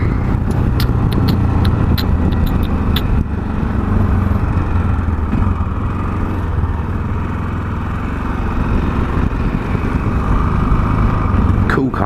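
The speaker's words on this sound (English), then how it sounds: "Cool car down there. Like a Morgan or something." A Morgan car drives past with a steady engine rumble that stays loud throughout, under people talking nearby.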